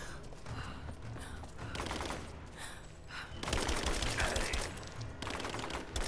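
Gunfire rings out in Rise of the Tomb Raider, played on PS4, in repeated loud bursts of rapid shots separated by short gaps. Scraping game mechanisms sit underneath the shooting, and no one talks.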